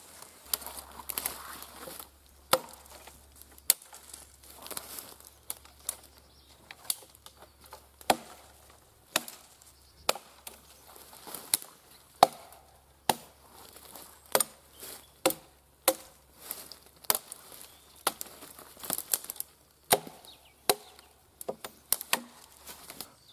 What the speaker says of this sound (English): it chops okay, nowhere near as efficient as a saw